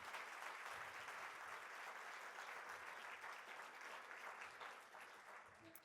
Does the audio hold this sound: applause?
yes